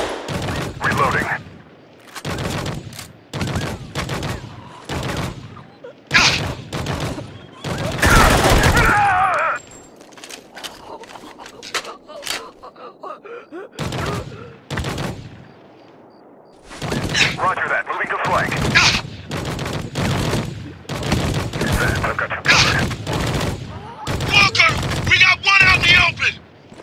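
Bursts of automatic gunfire and heavy weapons fire during a bridge battle in the video game Spec Ops: The Line, loud and repeated in clusters with pauses, mixed with shouted squad voices.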